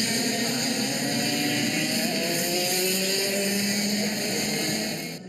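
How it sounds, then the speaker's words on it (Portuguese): Kart engines roar at a Brazilian kart race, a steady dense engine drone with shifting revving tones held loud for the whole stretch before easing off at the end. "E essa é uma experiência para quem gosta de velocidade, adrenalina, ronco dos motores."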